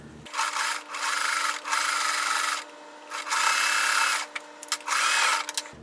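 A sewing machine stitches a quilt block in several steady bursts of motorized whirring, close and fairly loud, separated by short pauses, with no talking.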